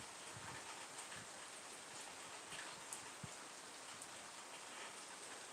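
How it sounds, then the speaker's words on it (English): Steady, dense rain pours down continuously, a soft hiss with scattered drops pattering nearby, no voices. "You guys hear how hard it's raining right now?"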